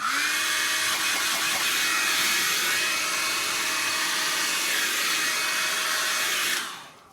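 A heat gun or hairdryer blows steadily on poured acrylic paint, a loud continuous whooshing hiss with a faint motor whine that runs unbroken before cutting off and tailing away at the end.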